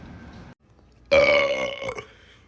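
A loud, long burp erupts after a short muffled lead-in and brief silence, rough and drawn out for about a second before trailing off.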